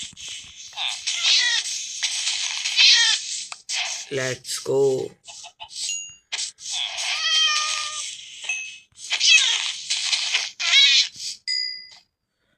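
Cat meows from a blocky survival crafting game sound out in repeated short cries, mixed with clucking fowl and other animal calls, while a person talks over the game audio.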